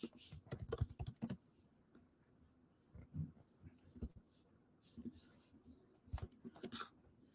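Light keystrokes on a computer keyboard while typing a regex string, in short irregular bursts of clicks with pauses between them, soft and close.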